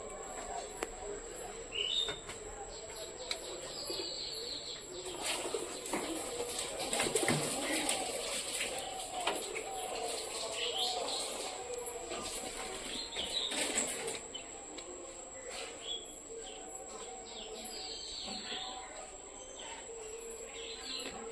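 A pair of pigeons on a roof after rain, with soft cooing, rustling and occasional wing flaps at a moderate distance over a faint steady background hiss; no speech.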